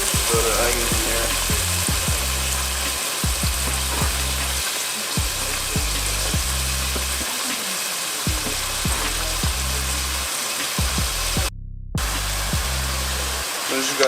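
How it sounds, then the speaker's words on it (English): Onions and pork sauté in a pan for adobo, a loud, continuous sizzle that carries on steadily with low rhythmic thumps and stirring noises, and one short gap near the end. "you're just gonna sear it. Saute it a little bit"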